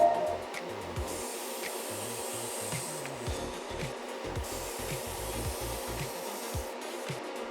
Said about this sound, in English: let me show you how it sprays with lacquer